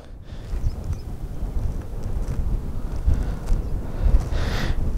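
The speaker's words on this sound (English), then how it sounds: "That's a lot of wind over here." Strong wind buffets the microphone of a 2005 Olympus FE-100 compact digital camera on a mountaintop, a continuous loud low rumble with gusty swells throughout and no voices.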